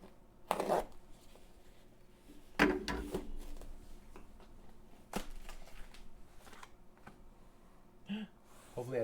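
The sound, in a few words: opening a package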